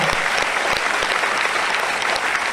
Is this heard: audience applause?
yes